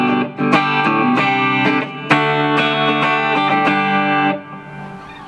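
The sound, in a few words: electric guitar through Blackstar ID amp with spring reverb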